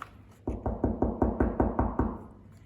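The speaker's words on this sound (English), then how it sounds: "He knocked at the door" Eight steady knocks on a giant castle door in a retelling of Jack and the Beanstalk, evenly spaced hollow wooden thuds, close and moderately loud, with no talking.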